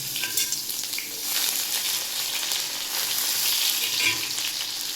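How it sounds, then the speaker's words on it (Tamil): Mustard seeds fry in hot oil in a pan for a Karnataka-style tomato and green pea dish, giving a close, steady, dense sizzle with fine crackling pops throughout. "அதில் கடுகு வந்து நல்லா பொரியுது"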